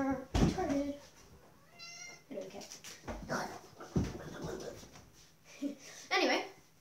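A cat meows indoors amid a mix of animal noises, with a dog also whimpering and panting, in short separate calls spread through the stretch, moderately near and fairly quiet.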